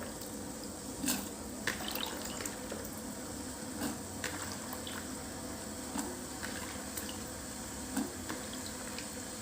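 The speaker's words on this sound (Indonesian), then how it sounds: "sekarang saya akan merebus lagi sayur kacang panjangnya" Long beans simmer in a pot of water on the stove, giving a steady low bubbling and watery churn with a few soft splashes and clinks, fairly faint and continuous with no talk.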